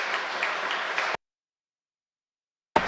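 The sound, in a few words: audience applause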